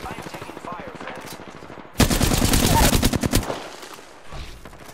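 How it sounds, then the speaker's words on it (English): Sudden loud automatic gunfire from the battle royale shooter Apex Legends, a rapid close burst of about a second and a half that cuts in over quieter game sounds and talk, then tails off. "I am taking fire, friend."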